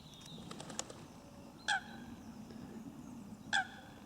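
Ducks in spring giving two short, distinct honking calls spaced about two seconds apart, fairly near, over a quiet outdoor background.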